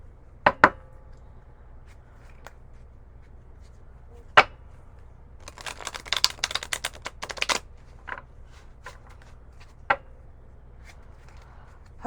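Playing cards being dealt out from shuffled decks into four piles: scattered light snaps and flicks, with a denser run of quick crisp slaps in the middle, close by and with no talking.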